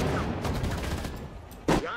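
Gunfire in the World War II strategy game Sudden Strike 4, during Operation Barbarossa: a rattle of rapid shots under battle noise, ending in one louder, sharper burst.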